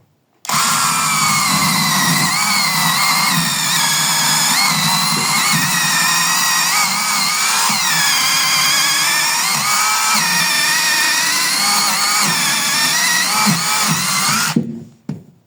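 Dnipro-M DMS-201BC chainsaw with a slightly dull chain, cutting willow wood outdoors: a loud, continuous engine drone close by for about fourteen seconds, wavering in pitch as the chain bites into the wood, then cutting off abruptly.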